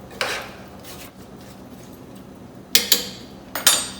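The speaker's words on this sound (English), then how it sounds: "I'm going to stir that around a little bit" A spoon knocks and scrapes against a pot of loquat juice and jam, with a few sharp clinks spread apart and quiet stirring in between, close by.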